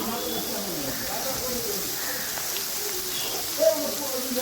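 Potatoes fry in a pan, giving a steady soft hiss and crackle that runs evenly throughout, with a brief louder pop near the end.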